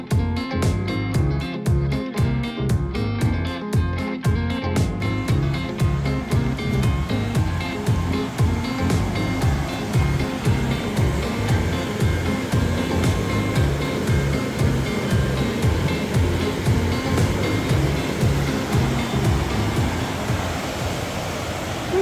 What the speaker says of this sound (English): Some rapids through here.